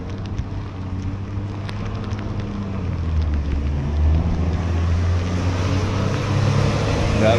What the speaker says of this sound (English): Garbage truck, one of them.